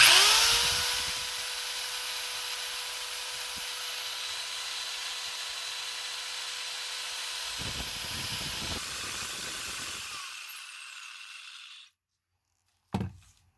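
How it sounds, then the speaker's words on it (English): Power drill running continuously on an inverter in a van conversion with a shore power and dual inverter setup, a steady whirring hiss close by after a brief spin-up, then stopping abruptly with a short burst afterward. "the old inverter would definitely trip after 30 seconds of this drill going"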